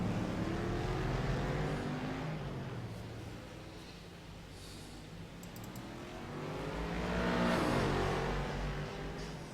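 A race car engine drones and revs steadily through a lap of a DPSS race, loud and close with the pitch swelling toward the end and no talk over it.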